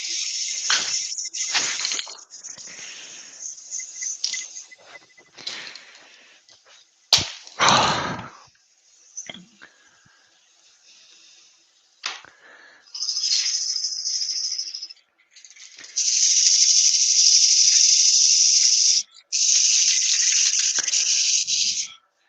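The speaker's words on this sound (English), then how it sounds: "I've got a rattle can in my hand. Yeah, I know. We can hear it." A rattle can of spray paint is shaken in bursts of hard clicking rattle, then sprayed in several long, loud hissing blasts with short gaps between them, close up in a woodworking shop.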